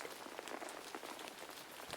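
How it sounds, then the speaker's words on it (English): Rain pattering steadily onto a raincoat outdoors, a soft, dense, even hiss of droplets with no distinct gaps, faint and continuous. "listened to the sound of the rain falling onto the material of his raincoat"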